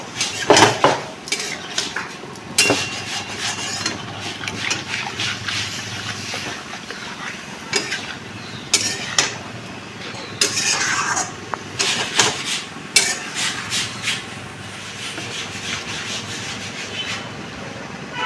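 Pointed gourd and Ganges prawn curry is stirred and fried in a pan, with loud metallic spoon scrapes and clanks against the pan in irregular bursts over a constant low frying sizzle, close up and without talk.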